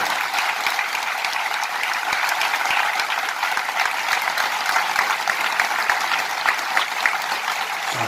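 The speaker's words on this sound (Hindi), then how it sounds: "खोलो अपने हाथ और 15 सेकंड तक ताली बजाकर उनके इस प्यारे से काम के लिए अभिनंदन करें" Audience at a spiritual discourse in Rajnandgaon claps together in sustained applause, a dense, even patter of many hands that keeps steady volume without pause.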